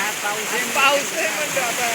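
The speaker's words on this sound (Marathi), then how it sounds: "आणि पाऊस पण चालाय" Rain pours steadily over a rice paddy during planting, an even rushing hiss throughout, with people talking over it.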